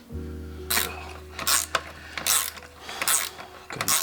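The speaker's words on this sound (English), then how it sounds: "loosen the hose clamp" A ratchet loosens the hose clamp on a PRL cold air intake for an FK7 Honda Civic Sport hatchback, giving bursts of quick, close metallic clicking in an irregular rhythm, with a low steady hum underneath and no talk.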